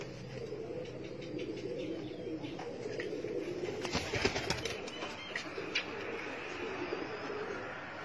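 Tumbler pigeons coo and wings flap in brief bursts against a steady outdoor background, with a sharper flurry midway.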